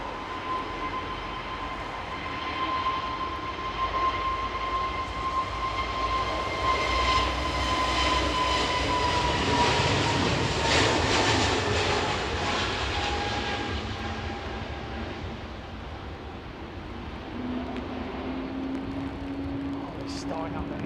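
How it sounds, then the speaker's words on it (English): A jet engine being tested on the ground at London Heathrow Airport roars loudly and steadily nearby, with a rising whine and broad rushing blast that swells mid-clip, then eases as a low hum lingers. "They're testing that engine."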